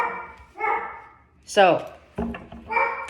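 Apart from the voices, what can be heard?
dog barking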